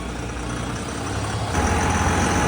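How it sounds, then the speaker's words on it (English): A forklift engine labours under the weight of a crashed Cybertruck, a heavy low rumble that holds steady and then swells louder partway through, near and continuous with no voices. "This forklift might just blow up right now. That is way too heavy."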